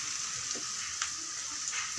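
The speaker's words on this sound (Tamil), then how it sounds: "வெங்காயம் நல்லா வதங்கி வரணும்" Onions sauté in a pan with curry leaves, a close, steady hiss of sizzling oil with faint occasional stirring scrapes.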